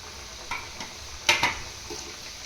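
Samosas fry in hot oil with a low background sizzle, broken by a few sharp clinks and scrapes of a utensil against the pan.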